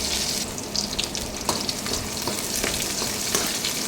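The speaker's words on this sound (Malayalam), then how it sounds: "ചെറിയുള്ളി അരിഞ്ഞതും കറിവേപ്പിലയും ഇട്ട് കൊടുക്കാം" Chopped shallots and curry leaves fry in coconut oil in a clay pot, a dense steady hiss and sizzle up close, with occasional soft stirring taps throughout.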